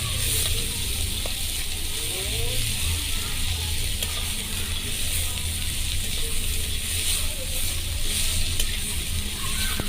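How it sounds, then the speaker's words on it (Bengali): Chopped onions being stirred in hot oil in a frying pan for a meat curry, producing a loud, steady sizzling hiss with faint scraping of the stirring spoon beneath it throughout. "এরপর আমি পেঁয়াজ কুচিগুলো দিয়ে দিলাম। তারপর আমি নেড়ে নিচ্ছি ভালো করে।"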